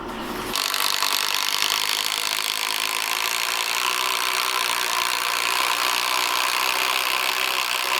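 A large drill bores big holes into a timber frame beam for 8-inch timber lock screws, starting abruptly and running as a steady, loud, grinding whir throughout.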